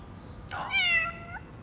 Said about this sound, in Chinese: 居然会养一只这么可爱的小猫咪